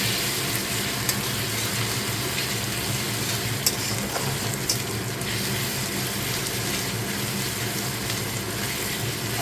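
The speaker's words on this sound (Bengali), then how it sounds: "এবার কিছু কাঁচা লঙ্কা যেগুলো কেটে রেখেছিলাম দিয়ে দিলাম।" Chopped green chilies frying in hot oil, a dense continuous sizzle and crackle that stays loud and close from start to finish with no talking.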